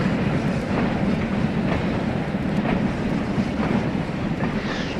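A passing train hauled by a French 141P steam locomotive on the main line, heard as a steady, loud rolling rumble with broadband wind-like roar throughout, no speech.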